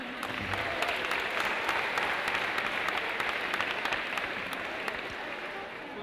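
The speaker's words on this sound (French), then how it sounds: "on les applaudit" Sustained audience applause at a prize-giving ceremony, a dense, steady wash of many hands clapping that holds at an even, fairly loud level for the full six seconds with no voices rising above it.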